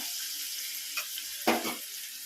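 Curry leaves and field beans hitting hot oil in a pan for a brinjal thokku give a steady sizzle with two short bursts of louder crackle.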